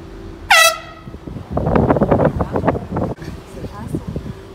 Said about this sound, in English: and then honk the air horn